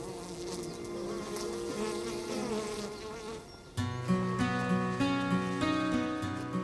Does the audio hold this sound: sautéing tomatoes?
no